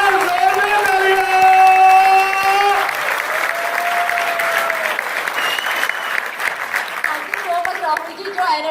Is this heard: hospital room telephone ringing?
no